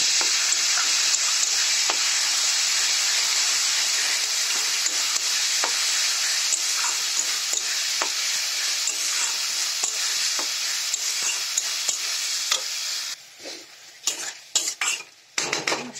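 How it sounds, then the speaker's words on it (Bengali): Spices sautéing in a pan for a Bengali fish curry, a loud, steady sizzle with repeated scrapes and knocks of a spoon against the pan, easing into quieter stirring clinks near the end. "মশলাটা কষিয়ে নিই"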